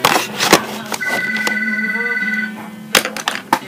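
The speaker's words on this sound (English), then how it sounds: "That phone is terrible." A telephone rings indoors, a steady electronic tone lasting about a second and a half, fairly loud and near, between scattered knocks and handling noises.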